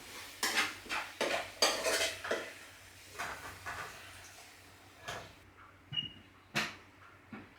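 Cooked onions are scraped from a pan into a bowl for a chicken dopiaza curry, giving a run of close metallic clinks, taps and scrapes of a utensil against cookware, irregular and alone with no talk.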